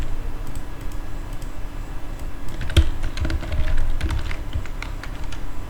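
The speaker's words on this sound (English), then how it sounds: "Just let's say randomly we type some number like" Numbers are typed on a computer keyboard, a close, brisk run of individual key clicks with uneven rhythm.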